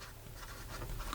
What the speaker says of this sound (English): here we go with the writing sample for the Visconti Opera